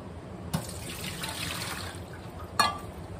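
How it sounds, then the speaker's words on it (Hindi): Fennel seeds rinsed by hand under running water, a steady faint trickle and splash with two brief louder sloshes, no voices. "मैं इसको 8 से 10 पानी से धो रही हूँ"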